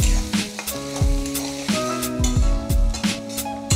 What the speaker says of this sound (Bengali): আর এই তেলের মধ্যেই কুচায় রাখা পেঁয়াজ দিয়ে দিলাম